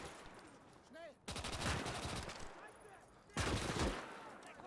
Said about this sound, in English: There's a whole lot of rounds into a wall.